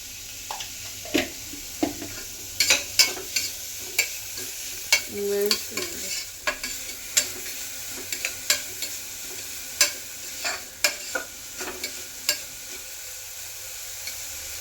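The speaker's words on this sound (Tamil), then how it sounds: "நல்லா ராஸ்மெல் போகிற வரைக்குமே நல்லா ஃப்ரை பண்ணுவோங்க." Salted vegetables for a soup sauté in a pan, with a low steady sizzle broken by repeated scraping stirs of a spoon, close and moderately loud, and no talking.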